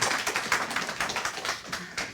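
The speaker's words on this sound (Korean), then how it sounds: "주님께 영광의 박수 올리도록 하겠습니다" A church congregation applauds during a Sunday afternoon service, a dense, steady wash of many hands clapping close by with no voices.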